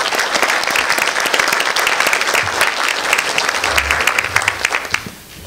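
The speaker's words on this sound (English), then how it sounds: "Let's give our panel a round of applause" An audience claps for a panel, a dense and even burst of applause that holds steady and then fades out near the end.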